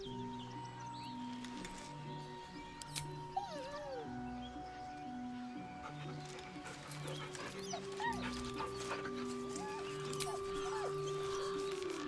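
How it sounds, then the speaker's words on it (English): A dog in a fantasy role-playing game lets out soft, plaintive whines and whimpers beside a body, faint and intermittent over a quiet, droning musical background. "He whines, but remains rooted by the corpse's side."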